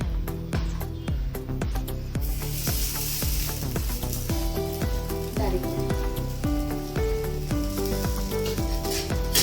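A nutri roll shallow-frying in ghee, with a continuous soft sizzling hiss beneath loud rhythmic background music throughout.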